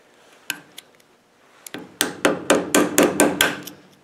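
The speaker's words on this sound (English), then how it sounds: "You should be able to just get under there and tap that out." A screwdriver is hammered to tap out a front pulley bearing on a Rover V8 engine: a few scattered metallic knocks, then a quick run of about eight sharp, evenly spaced strikes, close and loud.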